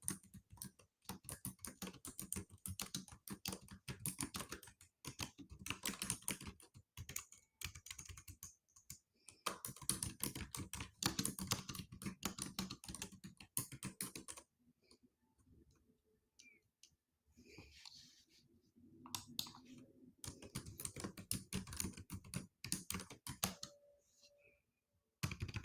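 Rapid clicking keystrokes on a computer keyboard come in long, fast runs with brief pauses, close and fairly quiet throughout.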